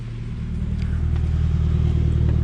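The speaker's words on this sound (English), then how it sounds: "revving engines and shit?" Car engines rumble and rev inside a drift team's garage, a heavy low drone that builds in loudness and holds steady, close by with no talk.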